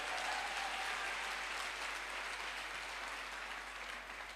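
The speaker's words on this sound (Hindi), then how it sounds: "सर के लिए एक जोरदार तालियां जरूर चाहता हूं।" A crowd applauds loudly for a mentor at a Safe Shop diamond recognition event, a dense, steady wash of clapping that fills the space and fades slightly toward the end, with no voices over it.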